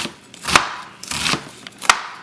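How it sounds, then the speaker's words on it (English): A knife slicing an ingredient thin on a cutting board for Hmong eggrolls, three distinct close chops with soft crunching strokes between them. "So I cut it in half, slice it thin,"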